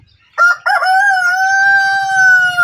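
A rooster crows at about half past five in the morning near a fishing spot, one loud, close call rising after two short opening bursts and holding a long sustained tone to the end.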